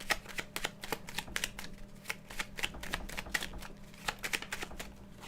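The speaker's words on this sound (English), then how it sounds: "And let me shuffle." Rapid, crisp riffling of a deck of tarot cards being shuffled, repeated in quick bursts, close and alone without talk.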